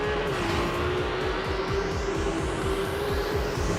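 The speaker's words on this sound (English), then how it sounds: "We worked a lot on the engine architecture, on the combustion and on the exhaust system to create this magnificent" A Ferrari 296 GTB plug-in hybrid's engine and exhaust roar loudly and continuously, with a steady pulsing rasp and rising pitch as it accelerates, no voices present.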